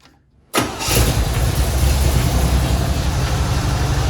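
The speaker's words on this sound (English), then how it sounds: "Let's see if a new starter fixed my truck." An old Mercedes truck engine starting after a new starter was fitted: brief quiet, then a quick crank that catches into a loud, rough, steady idle close to the listener.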